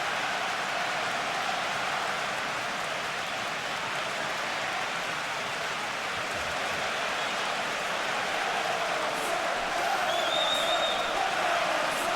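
A large stadium crowd fills the ground for an Arsenal vs Chelsea Premier League derby, a dense, constant roar of murmuring and cheering lasting throughout, with faint whistles near the end.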